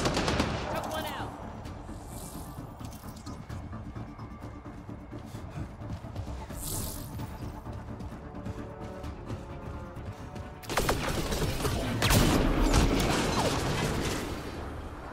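Enemy gunfire in Mass Effect Andromeda crackles in sustained automatic bursts with mechanical clatter, growing louder and denser toward the end.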